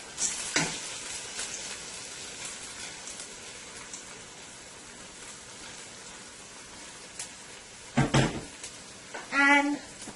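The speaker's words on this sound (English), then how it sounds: "we're going to add our washed split peas" Washed split peas tossed into hot oil with garlic give a soft continuous sizzle, with a couple of sharp clatters of utensils or cookware near the end.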